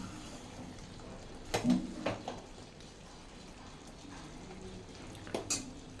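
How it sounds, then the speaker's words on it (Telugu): A spoon stirs eggplant curry in a pressure cooker pot, making a few quiet scrapes and sharp metallic clinks in two clusters over a low background hiss. "మళ్ళీ ఒకసారి మిక్స్ చేసుకుందాం."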